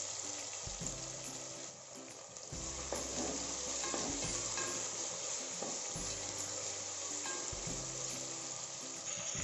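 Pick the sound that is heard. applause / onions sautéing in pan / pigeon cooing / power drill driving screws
onions sautéing in pan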